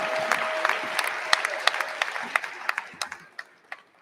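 A crowd applauds graduates at a nursing pinning ceremony, a dense patter of many hands clapping that thins toward the end into a few scattered, louder individual claps.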